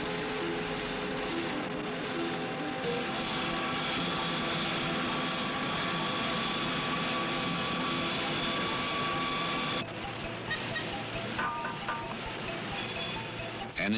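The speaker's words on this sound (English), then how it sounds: "An induction furnace." An induction furnace in a Remington rifle factory brazes shotgun magazine tubes to receivers, giving off a steady, dense industrial hum with tonal whine and machinery noise that shifts abruptly partway through, with no voices.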